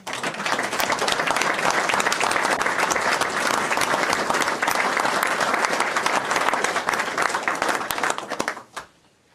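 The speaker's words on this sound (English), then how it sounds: "Let's give him a round of applause, eh?" Council meeting audience applauding in a sustained, loud wash of dense clapping that holds steady for about eight seconds before cutting off abruptly.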